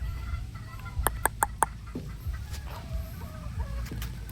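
Paul Spark Grey chicken pullets, about eight months old, cluck in a quick run of four sharp notes near the start, followed by softer scattered clucks and calls over a low farmyard background.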